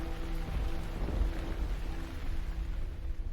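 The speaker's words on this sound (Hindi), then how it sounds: "बारिश की बूंदें जोर जोर से टपक रही थीं और आसमान गरज रहा था" Heavy rain falling steadily with a low rolling rumble of thunder beneath it, a dark stormy night ambience for a horror drama, continuous and fairly quiet, with no voices.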